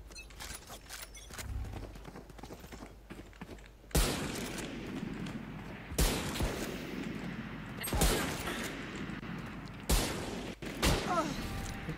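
Gunfire in a Valorant Spike Rush match, several sharp loud shots and short bursts fired at intervals with ringing tails and mechanical clicks in between, over a quieter game background.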